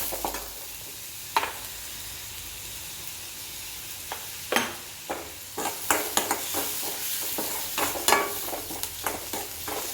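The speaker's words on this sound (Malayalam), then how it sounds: "ഉള്ളി നന്നായി വഴന്ന് വന്നിട്ടുണ്ട്." Onions sautéing with salt in a pan for sausage curry: a steady sizzle under intermittent stirring scrapes that grow busier and louder toward the end, heard up close with no voices.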